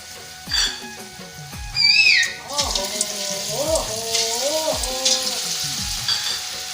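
Bottle gourd and gram flour fritters frying in hot oil, a steady sizzle with loud clattering thumps and scraping from a utensil in the pan, plus some faint voices in the background.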